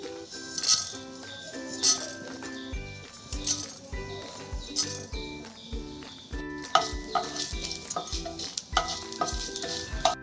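Urad dal frying in a couple of spoonfuls of hot oil, with a soft, steady sizzle under close spoon stirring and light metallic clinks against the pan.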